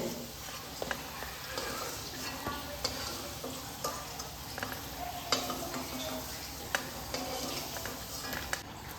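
Steady sizzling of potatoes frying in hot oil, with occasional light clinks and stirring sounds, no voices.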